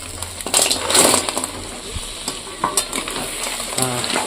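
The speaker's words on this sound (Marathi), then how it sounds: "तर आता आपण ना खेकडा टाकून घेऊ त्याच्यात" Crab sizzles and fries in spiced oil while a spoon scrapes and stirs it around the pan, with clinking strokes and crackling close by; no one speaks.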